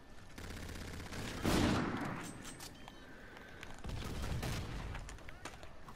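Gunfire in Call of Duty: Infinite Warfare multiplayer, steady rattling bursts with a louder burst near the start and another toward the end, loud and continuous throughout.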